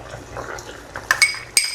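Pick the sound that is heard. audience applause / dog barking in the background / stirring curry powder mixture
stirring curry powder mixture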